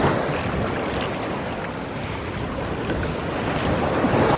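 Ocean surf at a Barbados beach makes a dense, continuous roar of waves mixed with heavy wind buffeting the microphone, loud and constant throughout.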